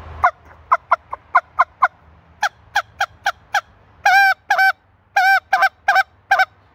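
A human voice imitates a turkey using a spit note technique, producing a series of sharp, quick clucks followed by louder, tonal yelping calls in bursts, close and clear with no talking.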